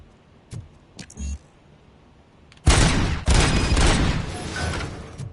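Heavy gunfire from a big gun in RoboCop: Rogue City blasting a fuse box, a loud dense burst of shots that runs for about three seconds after a few short mechanical clicks and thumps.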